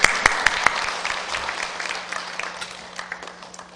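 A church congregation at a Korean Presbyterian revival service welcomes the pastor with applause. It opens with a few sharp, separate claps, then swells into a dense, even patter that slowly fades.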